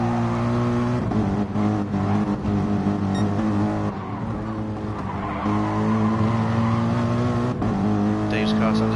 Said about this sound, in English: Dave's car sounds just getting fuel surge.